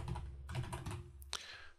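Typing on a computer keyboard while building a quiz in an online course tool, a quick run of soft, close clicking keystrokes in bursts with a brief pause, with no talking.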